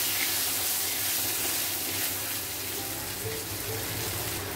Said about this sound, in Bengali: এখন আলুটা ফ্রাই করে নেব